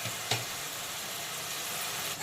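Onions and slit green chillies frying in a pan, a steady soft sizzle running throughout with one brief clink near the start, no voices.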